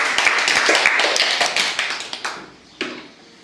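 Schoolchildren at a primary school clapping together in a burst of close, dense applause that thins out into a few scattered final claps.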